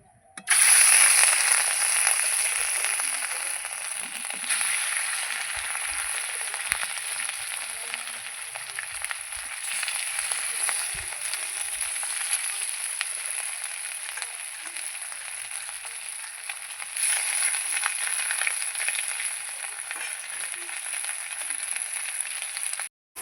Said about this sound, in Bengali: এবার আমি কড়াইতে মাছগুলো ভেজে নেবো রুই মাছগুলো